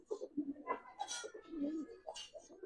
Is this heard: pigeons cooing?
yes